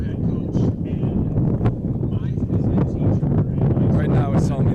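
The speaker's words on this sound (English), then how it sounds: "Right now it's telling me we got wind gusts up to 27 miles an hour." Strong wind gusts buffet the microphone outdoors at a track meet, a steady low roar with surges throughout while people talk over it.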